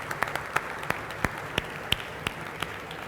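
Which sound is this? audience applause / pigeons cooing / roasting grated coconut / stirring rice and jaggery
audience applause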